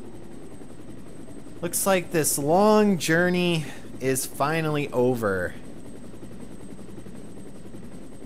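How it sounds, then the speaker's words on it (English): A helicopter in the video game Resident Evil Director's Cut keeps up a steady, low rotor drone throughout, with a character speaking over the middle of it. "And here comes the helicopter."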